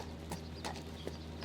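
Horse hooves clip-clop steadily as a big mare is ridden, a few soft, evenly spaced hoof strikes close by over a low outdoor background hum.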